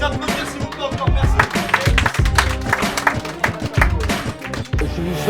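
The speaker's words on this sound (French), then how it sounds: "On les applaudir s'il vous plaît encore," Guests at a 52nd birthday party clap close and loud in a dense, uneven burst of applause, with voices and background music or talk mixed in throughout.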